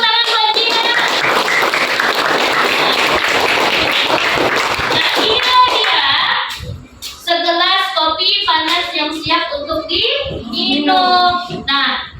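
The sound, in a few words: children applauding for Jihan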